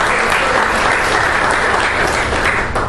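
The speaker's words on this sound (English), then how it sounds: "can we give ourselves a round of applause" Dense, loud applause from a seminar audience at a sales master class, continuous hand clapping filling the room without pause.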